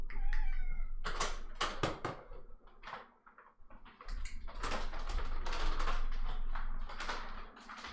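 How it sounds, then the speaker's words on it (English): A pet cat meows at feeding time, a few short cries up close followed by clicks, bumps and cupboard-like knocks of food being set out, in a quiet room. "I'm gonna feed my cat"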